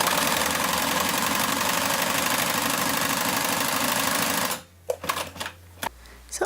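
A sewing machine runs steadily at stitch length 1, sewing a dense straight stitch with a fast, even mechanical whir that stops abruptly after about four seconds, followed by a few soft clicks and handling noises.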